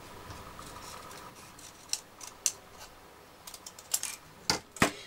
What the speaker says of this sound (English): then I'm going to cut this in 2